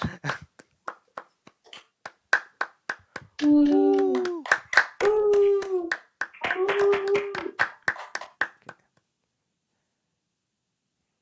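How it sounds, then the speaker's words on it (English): A small group claps in a slow, steady rhythm of distinct single beats, close and crisp, while voices whoop and cheer over the middle stretch before the clapping stops and silence follows. "All right, and we can start clapping."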